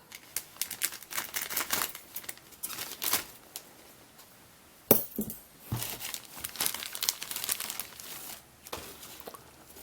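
A plastic bag holding chrome parts for a 1:25 scale 1958 Impala AMT Ertl model car kit gets cut and torn open, with busy close crinkling and rustling throughout and one sharp snip midway, and no talking.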